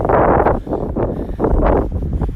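Strong gusts of wind buffet the microphone in loud, roaring surges that rise and fall over a couple of seconds, outdoors on Shore Road in Bay Ridge, Brooklyn.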